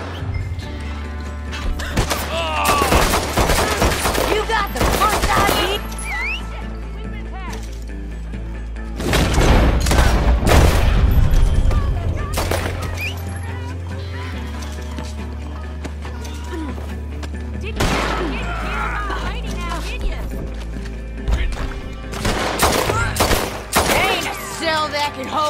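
Gunfire crackles in Red Dead Online during a legendary bounty, with bursts of shots and heavy booms over galloping horse hooves and a steady low rumble, growing dense around the middle and again near the end.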